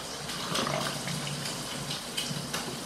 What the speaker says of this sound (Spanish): Agregamos agüita